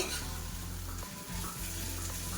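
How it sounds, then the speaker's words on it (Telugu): Mutton liver and onions fry gently on a low flame, giving a soft, even sizzle with faint stirring scrapes throughout and no talking. "కొంతసేపు సిమ్లో వేగనివ్వాలి"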